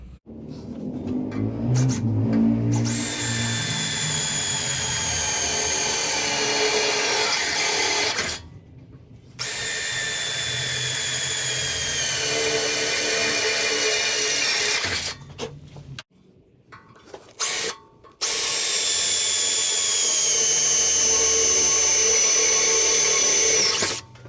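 A power drill boring holes into the metal body of a pyrolytic rocket cooking stove, running in three long sustained whining bursts with short pauses between them, close and loud with no talking.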